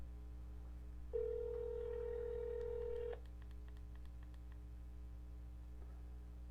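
A steady telephone line tone sounds for about two seconds while a guest is being called by phone, set over a low constant mains hum, followed by a few faint short beeps.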